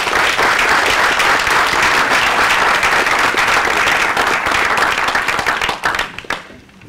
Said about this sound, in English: let's give these guys one more round of applause.